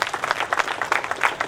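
Audience applause at a Rotary Club event in Hosadurga, a brief burst of many hands clapping in dense, uneven bursts, moderately close, with no talk over it.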